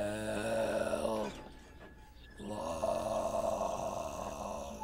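A voice imitates the snoring of a sleeping railway coach: two long, loud, drawn-out snores, close and alone, separated by a brief breathy gap.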